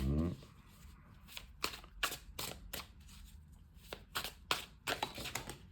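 Tarot cards being shuffled and drawn in a sequence of quick crisp riffling slaps and flicks at close range, with a brief voice at the very start.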